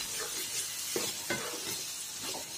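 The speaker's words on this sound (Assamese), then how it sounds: "আৰু 2 মিনিট মছলাখিনি ফ্রাই কৰিম" Spice masala fries in oil for an eel fish curry, giving a soft continuous sizzle with faint stirring scrapes, quiet and close with no voices.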